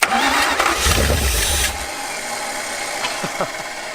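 An old engine with a 4-barrel carburetor, not started in 35 years, cranks and sputters roughly for a moment, then catches and settles into a steady idle with a few faint knocks.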